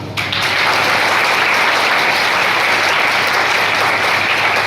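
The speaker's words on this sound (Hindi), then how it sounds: "तो इसके लिए पहली चीज़ अपने आप के लिए तालियां बजाइए एक बार।" Loud, dense applause from a large crowd at a district-level sports competition ceremony, starting abruptly and holding as a steady roar of clapping throughout.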